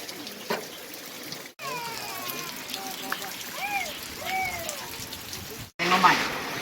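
Rain falls steadily in a rural outdoor setting, a soft continuous patter with a few louder bursts, while birds chirp in the background and voices are faintly present.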